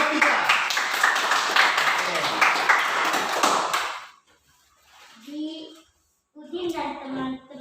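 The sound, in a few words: applause for group 3 in a classroom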